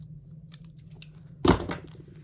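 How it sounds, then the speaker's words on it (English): Scissors snip through paper corners for a junk journal: a few soft cuts early on, then one sharp, loud snip midway, heard alone at close range with no talk. "Trim our corners."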